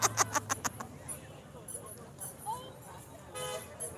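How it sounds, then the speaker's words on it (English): Passing drivers sound a quick series of short car-horn toots, loud and close, at a roadside No Kings protest in Lakewood, Washington, followed by traffic noise and voices talking. "people driving by honking, showing their support"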